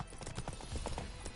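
Horse hooves clip-clop at a slow walk in The Witcher 3: Wild Hunt, a steady close rhythm of soft hoof falls on a dirt path with no other sounds.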